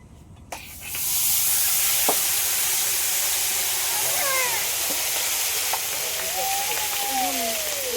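Marinated meat drops into hot oil in a home kitchen while cooking biryani, bursting into a loud, steady sizzle and hiss that swells after a brief quiet start, with faint voices in the background.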